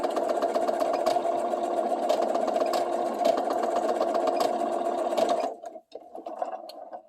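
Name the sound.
sewing machine zigzag stitching elastic waistband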